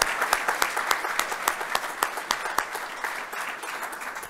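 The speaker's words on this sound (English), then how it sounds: "that deserves a round of applause" Steady applause fills a military change of command ceremony, dense rhythmic clapping from an audience honoring a couple's 53 years of marriage, loud and close with no voices over it.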